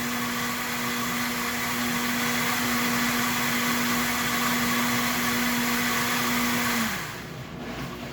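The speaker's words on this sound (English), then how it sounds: "So let's just put the lid on here, and we're just going to blend it." A kitchen blender whirs loudly with its lid on, mixing flour with other ingredients in a steady, even drone that winds down and stops near the end.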